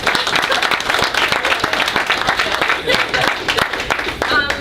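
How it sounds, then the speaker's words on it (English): Loud, close applause from a small audience at a real estate investing talk, dense clapping that holds steady for several seconds with some voices mixed in. "Can we give a round of applause?"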